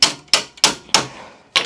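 Five sharp blows strike an Audi Q7 strut as it is driven into place by hand, evenly spaced at first and then pausing before a final hit, each a bright metallic knock with a short ringing tail, close and loud with no talk.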